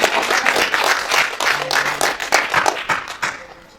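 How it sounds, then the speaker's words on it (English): A standing church congregation claps in praise during a service, a loud, fairly rhythmic burst of many hands that gradually thins and tapers off toward the end. "Can we give the best clap after again to the Lord?"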